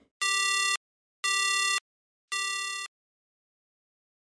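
A telephone busy tone after an emergency 119 call is hung up, three steady evenly spaced beeps, clear and alone against silence.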